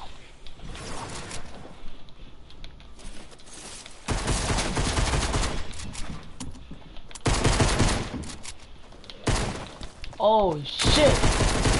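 Shotgun and pistol fire in a video game: loud bursts of rapid gunshots come in several separate volleys over steady background game noise, and a man's brief startled exclamation rises near the end.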